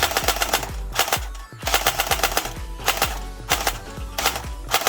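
Academy AK47 airsoft electric gun, modified with electric blowback and run on an 11.1V battery, firing full-auto in several loud, close bursts of rapid mechanical clacking with short pauses between them.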